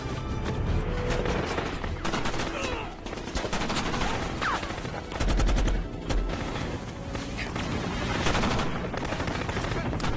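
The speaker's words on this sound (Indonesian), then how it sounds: "terjadi aksi tembak-tembakan" Rapid bursts of film gunfire crackle continuously with heavy booms mixed in, loud and dense like an intense firefight between soldiers.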